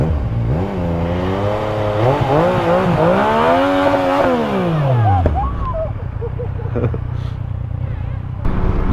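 Motorcycle engine, from a Yamaha MT-25 versus Pulsar 200NS ride, revving hard with rising and falling whine as the tire burns, then dropping to a rough idle, loud and close with a voice over it.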